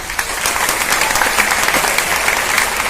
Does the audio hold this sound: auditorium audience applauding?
yes